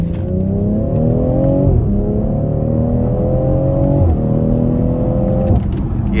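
A 2018 BMW X3 M40i under full-throttle acceleration, its engine note climbing loudly and steadily through three rising pulls, each ending with a quick drop at an upshift, heard close from inside the cabin.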